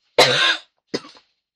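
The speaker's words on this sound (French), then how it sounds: "j'essaie de faire en sorte de pas trop tousser" Two coughs, a long harsh one followed by a shorter, weaker one, close by with silence between.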